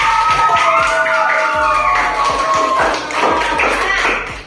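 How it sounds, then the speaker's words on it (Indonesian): A classroom group in a teaching practice session gets a round of applause: steady rhythmic clapping and tapping close by for several seconds, with a thin tonal whistle-like sound running over the claps. "Aplaus untuk kelompok 1."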